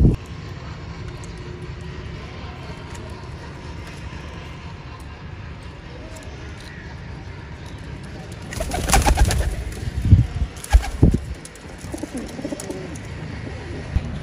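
Domestic pigeons kept by a breeder coo softly against steady background noise, followed by a louder burst of wing flaps and bird movement near the end.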